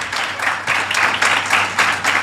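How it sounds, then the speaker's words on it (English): An audience at a comedy interview breaks into a brief round of applause, a dense, loud wash of clapping that pulses in short waves. "Really quick round of applause."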